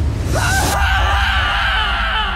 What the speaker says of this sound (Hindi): वो जोर से चीख पड़ा